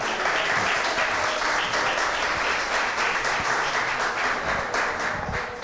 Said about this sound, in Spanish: un aplauso gracias, para Vaqueró.